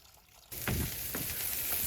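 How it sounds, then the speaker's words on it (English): Tap water gushes on abruptly while hands are washed during a patty melt cook on a Blackstone griddle, a steady close splashing hiss with a few sharper splatters, nobody speaking. "I'm actually gonna go wash my hands really fast."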